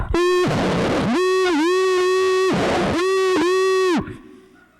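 A voice mimics a garbled, distorted drive-thru speaker, loud buzzy nasal bursts in three or four chunks, harsh and crackly, fading at the end.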